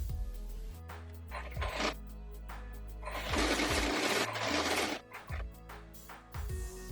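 Stitching double-folded lining fabric for a floral print long gown, a nearby sewing machine runs in repeated short bursts and one longer steady run, its rapid mechanical whir broken by pauses and no speech.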